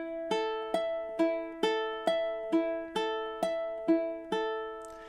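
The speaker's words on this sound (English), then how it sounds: "So in time, measure 11 should sound something like this." A ukulele plucks the main theme of The Last of Us, ten evenly spaced picked notes ringing out and decaying in a steady, unhurried rhythm, played solo and close.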